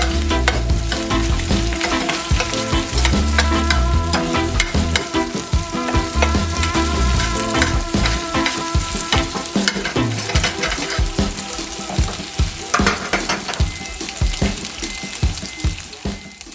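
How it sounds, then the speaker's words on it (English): Bacon sautéing and rendering its fat in a pan for jerk shrimp and grits, a loud close sizzle with constant stirring and scraping throughout, no voices. "you're just going to saute that, render down the fat, and make sure the bacon is fully cooked"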